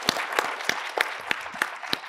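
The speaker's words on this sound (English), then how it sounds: "please give a round of applause to our wonderful panelists." Audience at a conference panel on the future of democracy gives a short burst of applause, individual claps standing out as sharp rhythmic spikes, fairly near and alone without talk.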